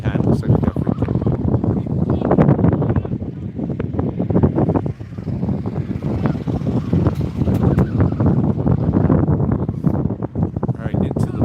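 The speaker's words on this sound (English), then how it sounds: "So the wind is coming from our right and blowing towards the left." Gusty wind buffets the microphone at an outdoor football pitch during a match, a steady loud rumble throughout with a commentator talking over it.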